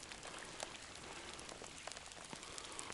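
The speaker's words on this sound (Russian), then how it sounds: "дождь такой пошел" Steady rain falls outdoors on a cold, wet fishing outing, a dense continuous hiss with scattered droplet patters throughout and no voices.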